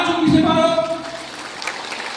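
A crowd claps hands at a gathering, starting under a brief raised voice, then continuing as a steady wash of clapping.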